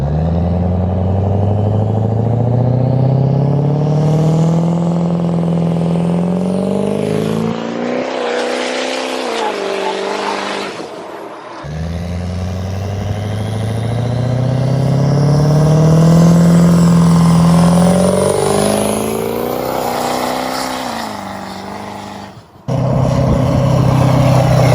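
Ford 6.0 Powerstroke diesel truck tuned to 800 horsepower revs hard twice, each pull climbing in pitch with a raw, gravelly roar before dropping back, loud and close, with brief clattering lulls between runs.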